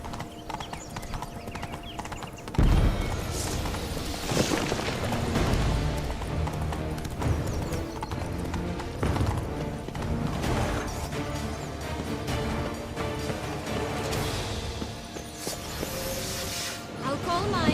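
Roach the horse gallops in The Witcher 3 with a rapid, steady clip-clop of hooves, loud and close, while voices talk over the running and a short snort breaks through.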